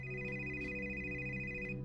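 A telephone rings indoors with a steady, bright electronic tone that holds unbroken for about two seconds, fairly quiet and with no one speaking.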